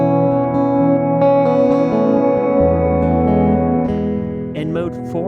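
A sustained electric guitar chord through a reverb pedal's chasm mode swells into a thick, dark, long-decaying reverb wash, with new notes blending into the lingering tail.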